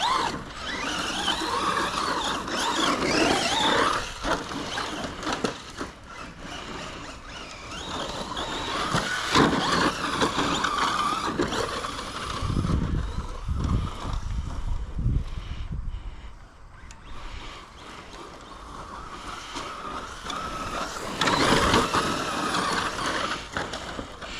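A Traxxas Raptor R RC truck runs nearby, its electric motor and gears giving a steady mechanical whine with rising and falling surges and ratcheting clatter over about twenty seconds, with no talking.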